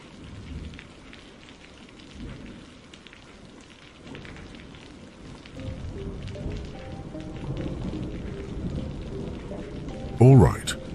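Steady rain falls on surfaces at night, a continuous close hiss of drops that swells slightly midway, with a brief voice-like tonal sound near the end.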